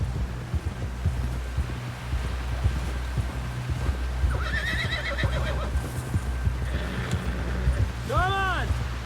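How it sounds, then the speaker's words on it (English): A horse whinnies and snorts in a video game set on the trail back to a camp, with short bursts near the middle and end over a steady low rumble and game ambience. "Someone help John down off this horse."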